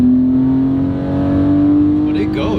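BMW E46 M3 engine revving high at around 5,000 RPM, a steady loud rising tone heard from inside the car during a pull from 60 to 80, with a voice talking over it.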